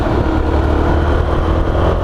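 A Zontes 310X motorcycle engine idles steadily nearby, a constant low, throbbing hum with no change in pitch.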